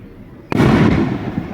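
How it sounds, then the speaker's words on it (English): A single firework bursts outdoors near Long Beach, a sudden loud bang after quiet background, followed by a crackling, rumbling decay lasting about a second. "firework"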